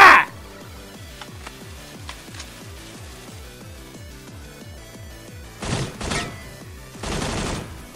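Gunfire in the mobile battle royale Knives Out during an apartment-building fight: a sharp loud crack opens, followed by a steady rhythmic patter and then two short, dense bursts of shots near the end.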